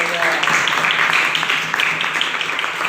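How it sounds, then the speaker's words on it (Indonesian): Students clap hands in a classroom microteaching session, a sustained burst of dense, even applause close by. "Tepuk tangan Suraya, tepuk tangan Suraya."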